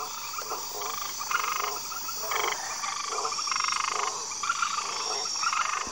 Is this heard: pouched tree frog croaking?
yes